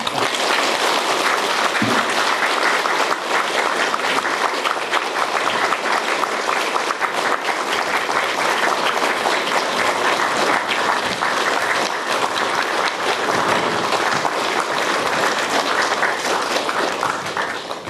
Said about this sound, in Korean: 모두 박수로 해주시기 바랍니다.